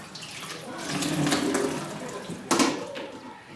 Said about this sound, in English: That's big lumps of meat boiling away there.